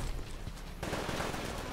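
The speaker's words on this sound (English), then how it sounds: "this is a very powerful gun now" A powerful gun fires in the video game Titanfall as a dense, continuous burst with no clear gaps, loud and close, swelling louder partway through.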